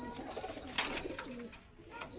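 Round-winged homing pigeons cooing close by, a soft continuous murmur with a couple of brief brighter calls over a steady background.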